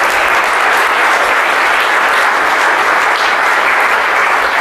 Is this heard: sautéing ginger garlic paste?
no